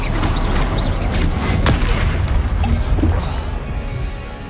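Spell impacts from the Expelliarmus charm in Hogwarts Legacy, heavy booming blasts and crashes over a dense, loud, continuous battle din with sharp transients near the start and middle.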